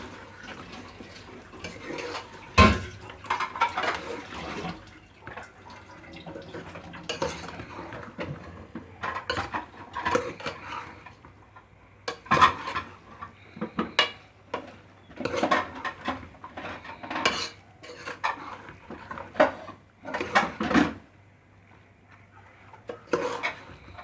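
A spoon scrapes and knocks around a pot of gobi chicken curry (cauliflower and chicken) as it is stirred, giving a long run of irregular clatters and soft scraping with no talk.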